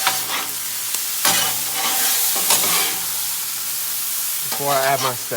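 Lo mein vegetables sizzle loudly on a hot Blackstone griddle as a spatula stirs and scrapes through them in several bursts, with someone talking briefly over the frying.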